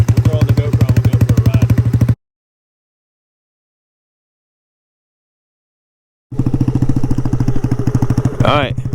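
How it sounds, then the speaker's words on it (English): A GY6 150cc scooter engine in an Icebear Maddog warms up at a close, loud, steady idle with a rapid pulsing putter, cut by a long silent gap before the idle resumes. "Let the bike get warmed up"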